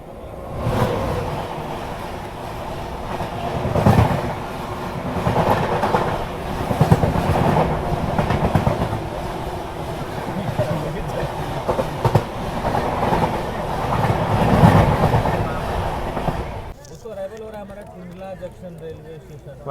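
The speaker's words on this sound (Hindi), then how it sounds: "सामने से आ रही है हमारी Nilanchal express, Nilanchal superfast express" Nilachal Superfast Express train passing nearby in dense fog, a steady loud rumble of wheels and rail clatter running for most of the stretch before cutting off abruptly, with someone talking over it.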